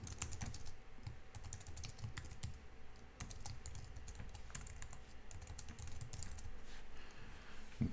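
A project name typed on a computer keyboard while setting up a project in IntelliJ, a quiet run of rapid key clicks with brief pauses, close and alone.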